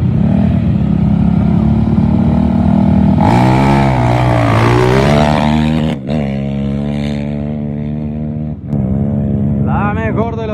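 Quad bike engines idle and rev loudly at a desert rally race start, a steady roar rising into revving bursts, with someone talking over a loudspeaker throughout.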